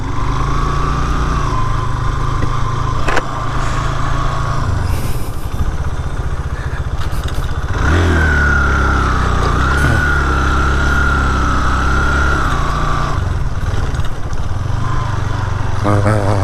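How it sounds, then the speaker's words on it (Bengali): Many motorcycles sit with engines running at a bikers' club iftar gathering in Saidpur, a loud, continuous close-up drone with revving swells and faint voices underneath. "অনেক বাইকার আসছে এখানে।"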